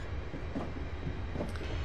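Steady rail rumble of a train in Train Simulator 2015 on the Glasgow Airport Rail Link, with a few soft wheel clacks and a brief faint squeal over a continuous low drone.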